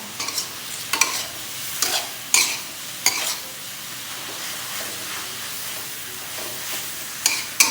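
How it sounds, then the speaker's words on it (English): Pad Thai noodles stir-fried in a hot pan give a steady sizzle, broken every second or so by sharp scraping strokes of the spatula, close and loud with no talking. "And then we fry all together."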